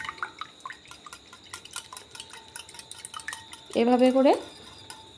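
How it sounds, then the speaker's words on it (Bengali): Eggs beaten with salt and ground pepper in a mixing bowl, a run of light, quick clinks against the bowl, with a brief spoken phrase near the end. "এরপর আমি ডিমটাকে খুব ভালো করে ফেটিয়ে নেব।"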